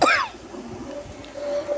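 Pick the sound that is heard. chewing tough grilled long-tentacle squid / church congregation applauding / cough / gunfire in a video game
cough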